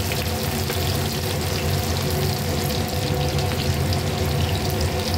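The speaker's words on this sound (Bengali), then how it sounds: "রসুনটা সামান্য ভেজে নেবো।" Chopped garlic with dried red chillies frying in hot oil, making a loud, steady, dense sizzle that holds evenly throughout with no pauses.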